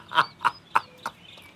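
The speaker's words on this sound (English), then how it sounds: "But the birds are going crazy." Birds call outdoors: four loud, evenly spaced honking calls ring out close by, each short and bright, then fade into quieter chirps.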